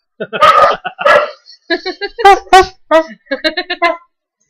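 Dogs bark in a quick series of sharp yips and barks, close by, in short irregular bursts.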